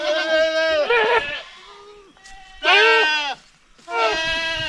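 A goat on a farm gives three loud, close, drawn-out wavering bleats, with quieter gaps and softer sounds between calls.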